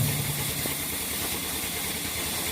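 A sawmill machine cutting a wooden log, a steady droning engine and hissing blade noise, constant and even throughout with no clear pauses.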